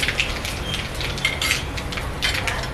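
Half a spoon of asafoetida drops into hot oil already holding garam masala, curry leaves and bay leaf for Kathiyawadi dhokli shaak, giving a steady close crackling sizzle with a few sharp pops and faint utensil clinks.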